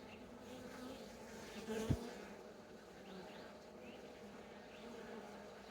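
Honey bees drone around an open beehive, a steady low hum with individual bees buzzing briefly closer now and then.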